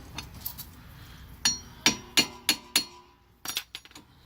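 A straight claw hammer strikes a brake caliper to knock it loose, a series of sharp metallic clanks with ringing overtones, several spaced blows and then a quicker cluster near the end, close and clear with no talk.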